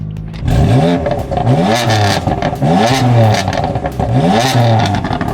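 A cold BMW M4 engine revs repeatedly. Four sharp, loud blips rise and fall in a steady rhythm, close by and with no talk over them.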